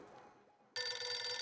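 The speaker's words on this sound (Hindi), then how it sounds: "ओहो, अभी सोडी का फोन।" A telephone bell rings sharply in a household scene, starting abruptly after a moment of quiet and repeating as a bright, steady trill.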